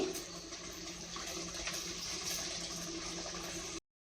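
Water poured from a glass onto rice in a pot for chicken biryani, a steady close gushing splash lasting several seconds before stopping abruptly.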